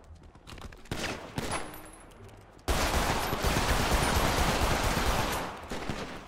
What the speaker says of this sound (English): what is bro shooting at?